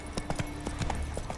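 Horse hooves clip-clopping in The Witcher 3, an uneven run of about eight to ten light hoofbeats at a trotting pace over a steady game background, with no speech.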